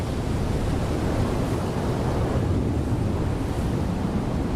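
Rough ocean surf on a stormy day, a steady, dense roar of breaking waves with a wind-like hiss, constant and fairly loud with no voices.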